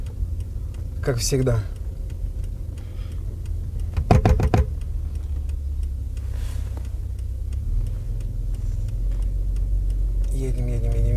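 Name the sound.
car driving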